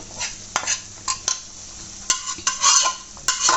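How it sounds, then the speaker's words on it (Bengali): A fried spice mixture is tipped into beef kala bhuna cooking in mustard oil, giving sharp sizzles and scraping stirs in short bursts, close and fairly loud, with no talking. "এখন আমি এটা মাংসের মধ্যে দিয়ে দেব, কালা ভুনার মধ্যে।"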